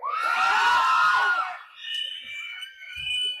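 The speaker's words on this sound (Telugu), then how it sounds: "మీ అరుపులకి రోమాలు ఎప్పుడు నిక్క ఒడుచుకుంటూ ఉంటాయి." Loud, high-pitched screaming from a crowd at a movie teaser launch swells and fades, followed by scattered shrill shouts over a quieter gap.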